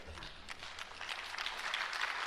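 Audience clapping at a school district convocation, a steady, fairly quiet patter of many hands continuing throughout, with a faint background murmur.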